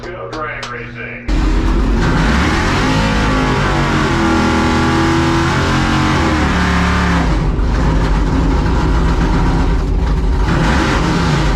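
A drag racing car's engine at a drag strip during midnight grudge drags, revving hard and droning loud and near for several seconds after a brief quieter start, with voices over it.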